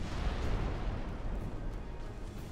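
11-inch naval guns firing in Ultimate Admiral Dreadnoughts, a steady rumbling roar of heavy gunfire with no distinct separate shots, sustained and moderately loud.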